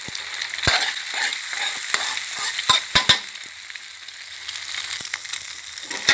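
Egg, tofu and tomato fry in a pan with a steady sizzle, broken by sharp clacks and scrapes as a utensil stirs against the pan.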